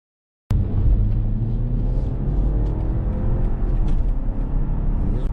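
A BMW 530e plug-in hybrid drives in sport mode, heard as a steady low rumble and road drone from inside the cabin, starting abruptly and staying even.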